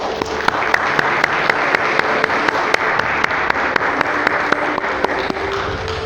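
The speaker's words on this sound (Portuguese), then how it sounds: "recebamos também de volta aos seus lugares os nossos aniversariantes com uma forte salva de palmas" A church congregation gives a strong round of applause for birthday celebrants returning to their seats, dense continuous clapping with a regular rhythmic beat running through it, loud and close throughout.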